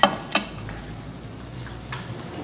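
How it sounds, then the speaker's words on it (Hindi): Tikki patties fry in ghee with a soft, steady sizzle, and a couple of sharp utensil clicks near the start. "इसी तरह हम सारी टिक्कियां फ्राई करेंगे।"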